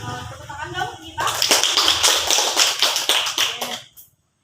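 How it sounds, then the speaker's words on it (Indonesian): A student group in a school guidance-counselling session claps hands together in a loud burst of quick, slightly uneven claps that fades out at the end, following a moment of voices. "Tepuk tangan dong kita."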